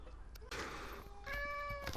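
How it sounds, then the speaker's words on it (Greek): A cat meowing close by with two drawn-out, tonal meows, the second longer and rising, over a low background murmur. "Προβληματική γάτα."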